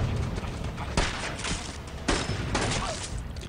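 Gunfire from the war film Hacksaw Ridge comes as several sharp, loud bursts about a second apart over a constant rumbling battle background.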